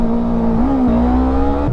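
A Yamaha R3 motorcycle engine drones loudly and close on the road, holding a steady tone with a slight rise in pitch partway through and a brief dip near the end.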